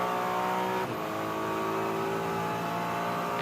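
A GT race car at NOLA Motorsports Park holding a steady engine note, with a brief dip and shift in pitch as the throttle is eased and reapplied, continuous and fairly close.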